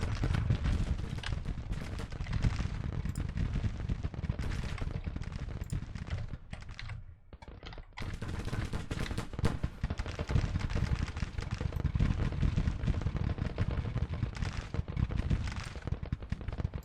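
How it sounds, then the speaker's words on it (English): Massed rifle fire from Mississippi rifle infantry in Grand Tactician: The Civil War, a dense, continuous crackle of musketry with overlapping volleys, briefly thinning before resuming at full intensity. "We're gonna bring the Mississippi rifles on their backs and start engaging"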